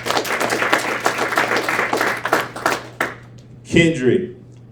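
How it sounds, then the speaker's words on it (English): Attendees at a school district board meeting clap in a steady burst for about three seconds, then the applause stops and a voice speaks briefly. "So clap it up for Mr. Douglas."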